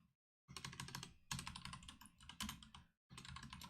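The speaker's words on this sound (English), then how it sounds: "Can you hear very loud my keyboard?" Loud computer keyboard clattering under rapid typing during a coding session, dense bursts of sharp key clicks separated by short pauses, close and alone with no talk.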